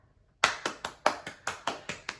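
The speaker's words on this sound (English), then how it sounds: "he gets a round of applause" A small group claps in a short burst, with about eight distinct, fairly close hand claps in an uneven rhythm after a brief silence.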